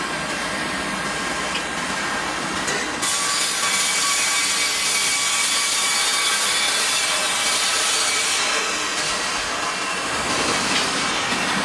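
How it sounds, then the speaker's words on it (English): A Meber HDZ 1200 Plus horizontal band saw cuts through softwood logs with a loud, steady, continuous grinding rasp that holds for the whole stretch, shifting slightly in tone midway as the blade works through the wood. "The Meber HDZ 1200 Plus horizontal band saw begins its operation, prepared to process the incoming softwood logs."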